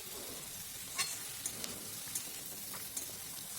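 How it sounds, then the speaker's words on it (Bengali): Fried small fish sizzle steadily in a frying pan as they are mixed into a spicy sauce, with soft scrapes and a few light clinks of the utensil over the continuous frying hiss. "ভেজে রাখা মাছগুলো দিয়ে এবার আমি ভালো করে মাছগুলো মিশিয়ে নেব।"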